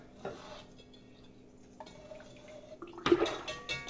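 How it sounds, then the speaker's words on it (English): Hot sugary liquid for a citrus punch is poured back into a container, a soft trickle and splash alongside clinks of dishes and utensils that grows louder toward the end. "So this hot sugary liquid we'll put back in here."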